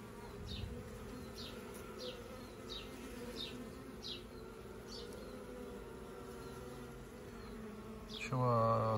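Honeybees of a calm colony buzz softly and steadily in a low drone, with a brief louder hum near the end.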